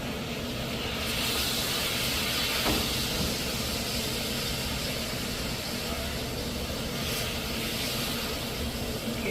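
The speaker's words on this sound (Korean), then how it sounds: "지글지글지글 살짝 익혀서 해주셔도 되세요." Beef for a sandwich sizzling in a hot pan, a steady dense hiss with crackle running unbroken throughout.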